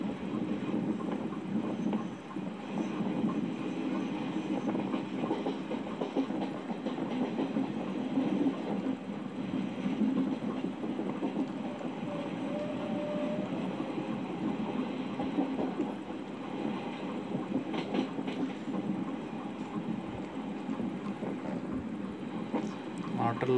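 A train rolls steadily into Palakollu railway station with a continuous low rumble and faint rhythmic wheel clatter over about twenty seconds, heard from on board at moderate level.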